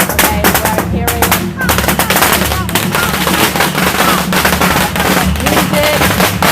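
Rapid crackling bursts of firecrackers exploding at a Fujian temple parade during the Chinese Spring Festival, dense and loud for the whole stretch, with festive music and crowd noise underneath.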